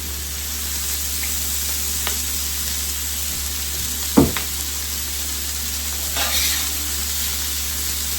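Bell peppers and onions for fajitas sizzle in oil in a pan as a steady, moderate hiss. A few sharp clacks and stirring bumps break in, and no one speaks.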